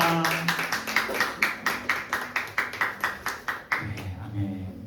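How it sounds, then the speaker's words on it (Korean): A church congregation claps in a steady rhythmic unison beat during a Sunday worship service, each clap sharp and evenly spaced, with a voice and music underneath before the clapping fades out. "우리 하나님께 영광의 박수 돌리도록 하겠습니다"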